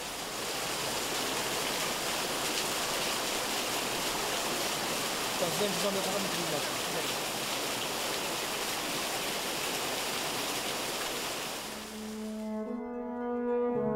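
Water on Mount Baekdu pours through the Baekdu and Brother waterfalls into a strong stream, making a steady, loud broadband rush. Near the end the roar drops away and a voice speaks over tonal music.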